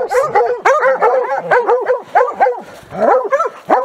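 Hunting hounds on a New Hampshire hunt bark, yip and whimper in quick overlapping bursts, close and loud, with several dogs sounding almost continuously.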